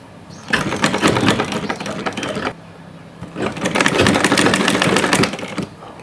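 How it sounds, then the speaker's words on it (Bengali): A sewing machine stitches salwar pants in two loud, rapid bursts of running needle clatter separated by a short pause, close and with no voices. "এরকম করে ঘুরিয়ে ঘুরিয়ে পুরোটা সেলাই দিয়ে নেব।"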